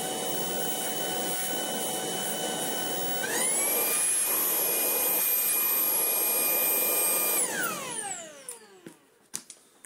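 A Tineco cordless vacuum cleaner runs with a loud, steady motor whine that jumps higher as it boosts, holds for several seconds, then winds down, with a few handling knocks at the end.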